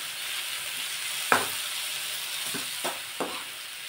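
Chopped dill leaves frying in hot oil give a steady soft sizzle, with a few sharp stirring scrapes and clacks standing out above it.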